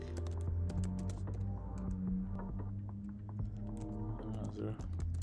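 Fingers tap quickly on a computer keyboard while coding, making rapid irregular clicks close by, with a voice talking underneath.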